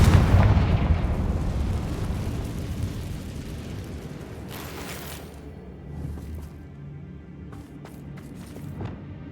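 A Confringo blasting spell detonates in Hogwarts Legacy, a loud booming burst at the start that rolls off into a long fading rumble, with a few sharp crackles and pops scattered later.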